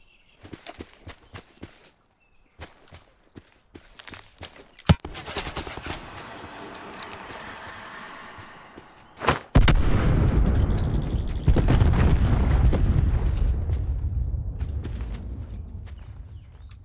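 Gunfire from a gun in a supernatural apocalypse video game: scattered sharp shots with a big blast near the middle, then a dense, loud run of firing and rumbling that slowly fades.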